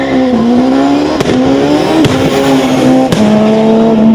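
Loud and close, a four-wheel-drive Ford Puma hillclimb car with a turbocharged 2-litre engine roars steadily, with three quick gearshift breaks interrupting the held engine tone.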